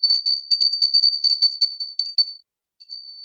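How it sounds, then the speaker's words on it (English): A small bell used as an emphasis effect jingles in a rapid series of bright tinkling strikes for about two seconds, stops, then gives a faint final ting. "let me ring the bell on that one."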